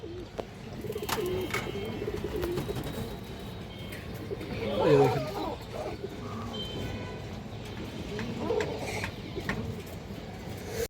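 Pigeons coo softly in a loft where a female bird is being shown, low burbling calls rising and falling in several bursts, with someone talking throughout amid faint rustles and background clatter.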